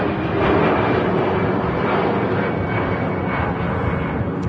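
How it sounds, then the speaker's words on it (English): An easyJet Airbus A320 with Sharklets departs the airport, its engines a steady, loud broadband roar that holds without letup. "easyJets A320 departing there with the Sharklets on board."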